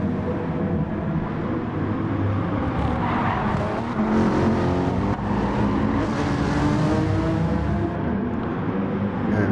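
Race car engines roar continuously in Gran Turismo Sport, a Petronas Mercedes SLS Gr.3 among the field at Fuji, with a Toyota Supra close ahead. The loud engine drone shifts pitch steadily and no one speaks.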